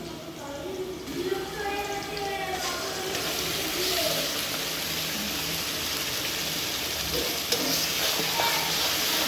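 A ground paste of ginger, garlic, cumin, dried chili and onion sizzles steadily in a hot pan at close range, a continuous frying hiss with occasional stirring, while a voice talks over it.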